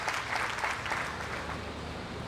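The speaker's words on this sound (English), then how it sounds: "A round of applause for her" Audience applause for a CEO at an awards ceremony, a moderate, continuous patter of many hands that swells briefly near the start and then settles, heard fairly softly at a distance with no speech over it.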